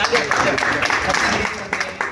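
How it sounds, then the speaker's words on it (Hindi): Audience clapping at an outdoor gathering marking Dr. Bhimrao Ambedkar's 135th birth anniversary, a steady, dense patter of many hands lasting a couple of seconds with a few voices mixed in. "तालियां"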